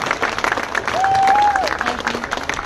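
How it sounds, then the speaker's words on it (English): A crowd in the Irish Dáil claps steadily throughout, with a brief whistle-like tone rising above the applause midway. "Give her a big round of applause."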